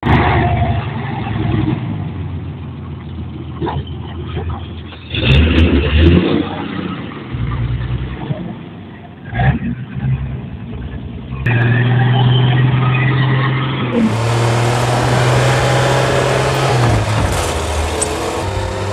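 A car running on garbage-derived fuel drives along a road, its engine note droning continuously with a few louder surges and shifts as it picks up speed, heard from inside or close by without any talk.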